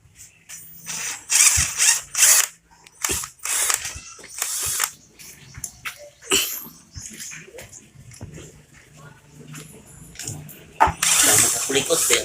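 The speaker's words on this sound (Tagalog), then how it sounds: "Drill lang, drill." A drill works at a motor stator during disassembly, with bursts of whirring and ratcheting mechanical noise that start and stop irregularly, close by, and some voices talking in between.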